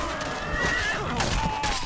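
Horses whinny and neigh over a busy, noisy battle backdrop in Mount & Blade: Warband, several high wavering calls overlapping in quick succession.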